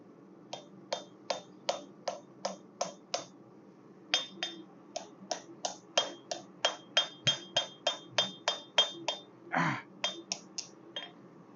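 Steady hammer blows on a forged railroad spike at the anvil, around twenty sharp ringing strikes in a regular rhythm with a brief pause between runs, close and clear with no talk.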